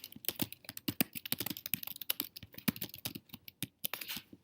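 Rapid, uneven keyboard typing close by while text is entered into a text box on a PDF document, a steady patter of light key clicks with brief pauses, no voices.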